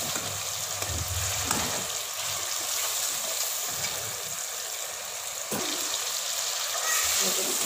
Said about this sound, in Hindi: प्याज मेरे फ्राई हो रहे हैं।